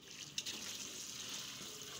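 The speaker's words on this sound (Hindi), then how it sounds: "पानी आजकल नल में इतना गर्म आ रहा है" Tap water running in a home kitchen while tomatoes are rinsed under it, a soft steady splashing stream with a brief clatter near the start.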